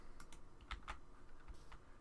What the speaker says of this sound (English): I got this new keyboard. Man, I'm mishitting keys left and right.